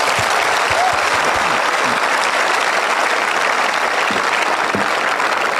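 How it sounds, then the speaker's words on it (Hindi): Loud, dense audience applause at a Rajasthani gathering, sustained without pause for the whole stretch, with a few low thumps underneath and no voice breaking through. "आप सब आ खातर एक बार तालियां बजाई दो।"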